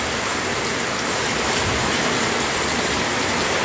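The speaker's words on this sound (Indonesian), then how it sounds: "Ini kondisi terkini hujan deras disertai dengan angin yang cukup kencang, bahkan sangat kencang di Kabupaten Goa." Heavy rain with strong wind in Gowa Regency, South Sulawesi, pours as a dense, steady roar that fills the whole clip without a break or any voices.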